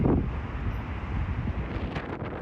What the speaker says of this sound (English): The weather was weathering, wind was gusting